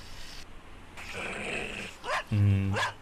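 A dog in a film scene gives a low, rumbling growl, then two loud, close barks in quick succession, with no speech.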